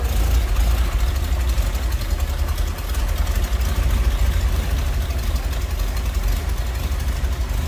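A 1948 Ford F1 pickup's single-carb inline-six 226 engine idles steadily, with a continuous low, even rumble close by and no voices.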